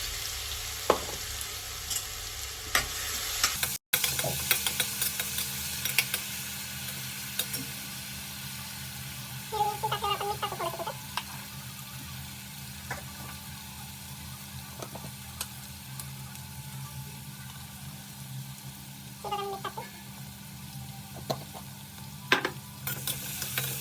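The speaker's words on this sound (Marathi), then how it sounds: "हिरवी मिरची टाकली तेलात।" Green chillies frying in hot oil for sabudana khichdi, a continuous crackling sizzle with occasional clinks and stirring noises over nearly half a minute, without talk.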